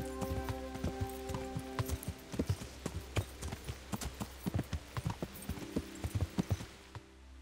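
A white horse ridden in Kingdom Come Deliverance clip-clops in a regular, distinct hoof rhythm throughout, crisp and fairly close over a soft sustained music background.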